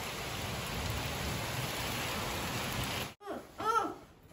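Steady evening rain pouring outside a building during a storm, a dense continuous hiss that cuts off abruptly near the end, leaving a quieter room with faint noises.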